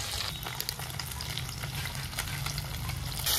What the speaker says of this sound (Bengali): এখন এই প্রথম কড়াইয়ের মাছগুলো নামিয়ে রেখে বাকিগুলো ভাজি।